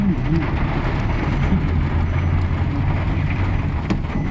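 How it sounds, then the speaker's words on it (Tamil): Heavy rain pours down around a car, a dense and steady rushing roar that fills the whole clip with no talk. "சரியான மழை புட்டி புட்டின்னு பிடிச்சிக்கிச்சு"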